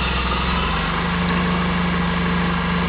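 A 2007 Suzuki Burgman 650 Executive scooter engine runs at a steady, close, even idle throughout, its low rhythmic putter holding constant without speech.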